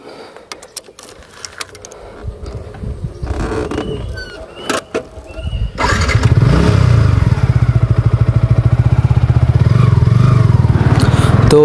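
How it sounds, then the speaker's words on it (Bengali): A Yamaha R15 V4 motorcycle cranks and fires up, then settles into a loud, steady, rapid idle close to the mic, after a few clicks and thumps. "তো বিসমিল্লাহ আল্লাহু আকবার বলে বাইকটা স্টার্ট দিয়ে দিলাম।"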